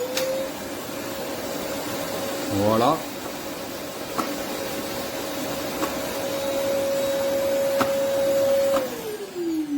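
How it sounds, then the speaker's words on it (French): A Rowenta Compact Power XXL bagless vacuum cleaner runs with a steady whining hum and airy roar, its pitch dropping as it shuts down at the end; a brief spoken word early on. "on va allumer juste là pour vous montrer le bruit qu'il fait"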